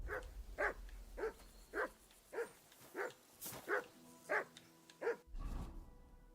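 In the Kingdom Come Deliverance 2 video game, a dog barks about ten times in a steady, evenly spaced rhythm, each bark short and mid-pitched against quiet game ambience.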